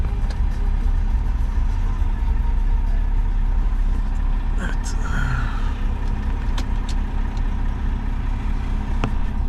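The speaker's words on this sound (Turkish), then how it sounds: "Arabayı biraz çalışma halinde bıraktım." A BMW 525 M Pack car sits idling to warm up, its engine giving a steady low rumble that runs throughout and is close to the microphone. A person says a single short word over it.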